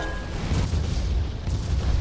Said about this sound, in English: he's shooting us with a rocket